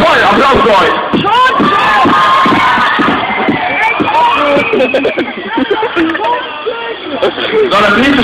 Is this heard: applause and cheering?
yes